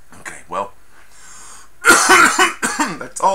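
Harsh, repeated coughing in close, loud bursts after taking dabs from a nail, a few faint sounds leading into a long run of hacking coughs over the last second and a half, with some voiced gasps between them.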